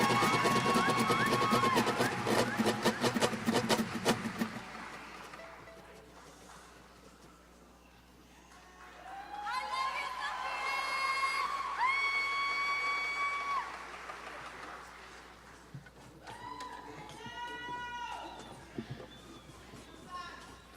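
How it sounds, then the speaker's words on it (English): An audience at a mariachi winter concert applauds and cheers for graduating seniors, with a dense burst of clapping for the first few seconds before it thins into quieter crowd noise and tonal sounds. "Give them a huge round of applause."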